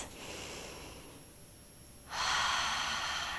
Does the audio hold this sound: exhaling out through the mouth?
yes